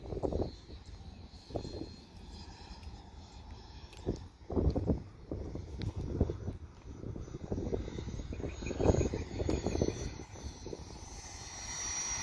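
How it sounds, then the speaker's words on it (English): Strong wind gusting at an airfield, buffeting the microphone in uneven bursts over a low steady rumble, fairly faint overall. "Actually, the wind is quite strong, Victor."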